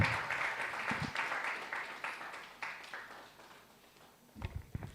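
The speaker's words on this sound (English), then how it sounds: "Another round of applause to Theodora Asari" An audience at a gender equality consultative forum in southern Ghana claps, a moderately loud, dense burst of applause that gradually thins out, then a few final claps at the end.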